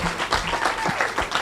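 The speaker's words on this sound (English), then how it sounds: "I think we can get a louder applause for Miss Brown" An audience at a dental school talk event applauds a presentation, with a dense, steady burst of clapping that fills the short moment.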